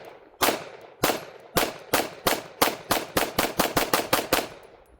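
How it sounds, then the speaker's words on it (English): A Sig Sauer SXG steel-frame pistol with a Lockwood upper fires at a range target: about fourteen sharp, loud shots, spaced at first and then coming faster in a quick rhythmic string. "Let's start off with just a couple shots."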